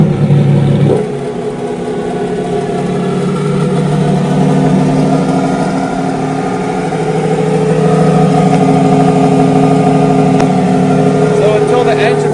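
The one-off Lamborghini Ducati Superleggera V4J motorcycle engine runs in a steady, loud mid-pitched drone after a brief start transient, holding a constant idle close by.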